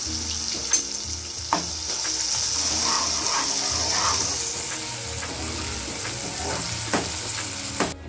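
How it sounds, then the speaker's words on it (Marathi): Tomatoes go into frying onions for dhaba-style paneer patiala, raising a strong steady sizzle with periodic sharp knocks of a spoon stirring the pan, close and loud, without speech. "कांद्याचं थोडं नासून झाल्यानंतर त्यामध्ये टमाटर टाकते।"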